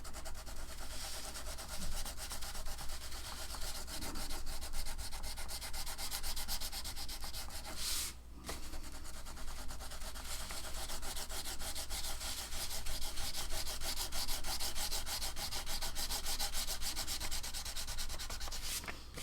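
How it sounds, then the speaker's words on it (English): Continuous scratchy rubbing of a white crayon pressed hard across paper, close and steady, with a short pause midway before the strokes resume. "if you colored good and hard with your white crayon"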